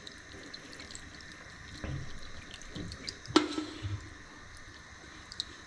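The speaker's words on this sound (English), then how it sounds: "Then we add the rest of the broth from the ham hock" Ham hock broth poured into a pot of stuffed cabbage, with quiet wet sloshes and drips, one louder splash midway, and a few small liquid splashes after it.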